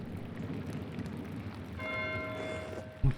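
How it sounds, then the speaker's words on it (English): A monastery bell rings in the medieval narrative game Pentiment, its steady tones entering about halfway through and sustaining over a soft rain-like background wash, with a brief thump near the end. "Why is Matthew ringing the bell?"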